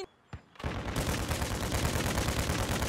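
Gunfire in Call of Duty: Modern Warfare 2 during an objective match with flags: a couple of sharp isolated shots, then a sustained rapid burst of automatic fire rattling loudly to the end.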